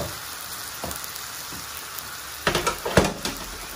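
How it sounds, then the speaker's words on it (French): Osso buco meat sizzles in a small pan with a splash of lemon juice, with a steady hiss and a few louder bursts of spattering near the end. "On va laisser saisir un petit peu vite fait"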